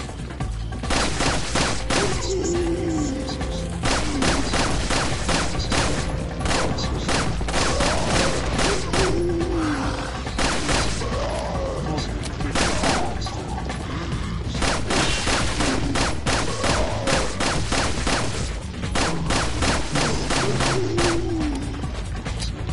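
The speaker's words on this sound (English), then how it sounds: "I like the sound of this gun" A gun fires in the Resident Evil 4 Mercenaries game, producing loud, close, rapid bursts of shots repeated many times, with short pauses and mechanical clatter between the volleys.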